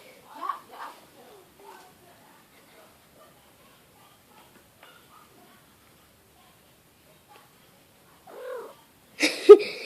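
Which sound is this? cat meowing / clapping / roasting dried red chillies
cat meowing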